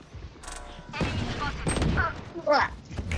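Gunfire in VALORANT rings out in a few sharp, close bursts, mixed with mechanical clicks and game effects while players talk over the action.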